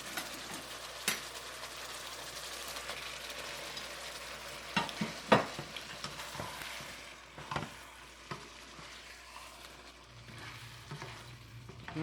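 Egg frying with tofu in tomato sauce and green onions, a faint steady sizzle with occasional soft clinks and scraping stirs in a quiet kitchen.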